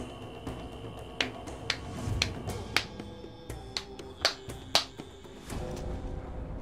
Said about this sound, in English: Sorry for the clapping.